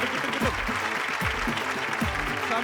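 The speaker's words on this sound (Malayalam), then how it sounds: "എല്ലാവരും ഒന്ന് കൈയടിച്ച് പ്രോത്സാഹിപ്പിച്ചേ" A television game-show studio audience claps steadily and continuously, a dense wash of applause running throughout while a voice carries on over it.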